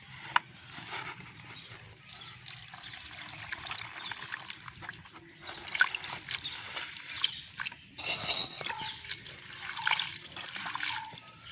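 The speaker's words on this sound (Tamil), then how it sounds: "நாங்கள் முதல் தண்ணியில் இருக்கா கழுவுவோம்" Water trickles and sloshes as prawns are rinsed and rubbed by hand, with small splashes and wet squelches close up.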